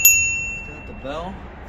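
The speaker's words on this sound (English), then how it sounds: "It's got the bell." A single bright ding from the bell on a Swag Cycle electric bike rings out close and sharp, then fades with a lingering metallic ring while a voice briefly murmurs.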